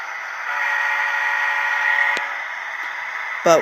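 A DCC sound-equipped HO scale model locomotive sounds one steady, sustained horn blast lasting several seconds, fairly loud and close, with a couple of faint clicks near the end before a brief louder burst.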